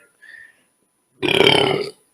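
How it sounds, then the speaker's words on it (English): Deep burp, one loud, low, rumbling eructation lasting under a second, preceded by a short faint squeak, with silence around it. "I don't know how good this mic can pick up burps, but I hope it got that one. It was deep."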